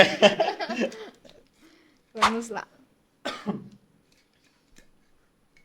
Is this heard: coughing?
yes